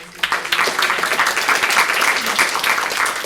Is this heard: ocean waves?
no